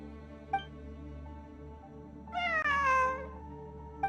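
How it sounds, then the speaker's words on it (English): A cat meows in the video game Genshin Impact over a steady hum of background music. One faint chirp comes first, then a long, clear, drawn-out meow, then a brief start of another. "It really is a cat."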